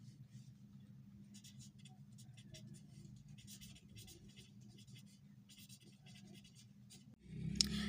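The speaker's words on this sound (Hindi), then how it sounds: "मैं यहाँ पे लिखती हूँ और फिर मैं आप लोगों को भी चीज़ें समझाती हूँ" Writing on a board or paper during a computer science lesson: quiet, irregular scratching strokes in short bursts over a low hum, ending with a louder knock and rustle.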